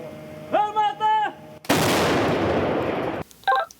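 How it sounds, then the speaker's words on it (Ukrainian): A Ukrainian Bohdana self-propelled howitzer fires one loud, close blast that rolls into a long roaring wash of noise, with short voiced radio-like bursts before and after. "Снаряди відправляють з української самохідної артилерійської установки Богдана."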